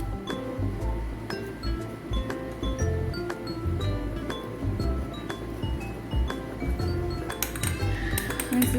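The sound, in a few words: spoon clinking in mug while mixing cake batter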